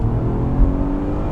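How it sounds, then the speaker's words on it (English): A 2018 Mercedes-Benz C63S AMG sedan launching at full throttle, its engine roaring loud and close in a steady, heavy drone with a brief surge partway through. "left foot on the brake, right foot throttle all the way down till it gets to 3"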